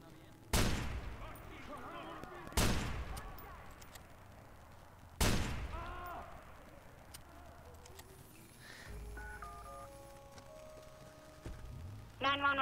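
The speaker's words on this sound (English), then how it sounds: "Yeah, I'm calling because I'm hearing gunshots." Three loud, sharp gunshots ring out in the Watch Dogs video game, spaced a couple of seconds apart with echoing decay, followed by quieter game sounds and electronic tones.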